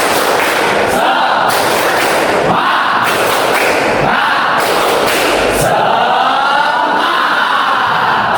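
A class stands and performs a rhythmic clapping chant with a teacher, producing loud bursts of group claps and voices in repeated rhythmic pulses, heavy and slightly distorted throughout.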